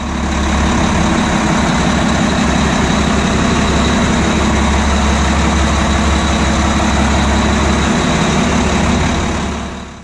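Twin 700-horsepower Caterpillar marine diesel engines drone loudly and steadily at close range in a boat's engine room while cruising, a constant deep rumble with a mechanical whine and no pauses.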